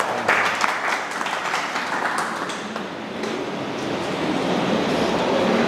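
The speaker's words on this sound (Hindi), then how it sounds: "तालियां" A crowd applauds loudly and continuously, a dense wash of clapping that swells and dips slightly throughout.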